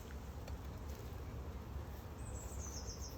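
Honeybees hum around an open, crowded hive during an inspection, a low, continuous drone close by with a faint high bird call drifting in near the end.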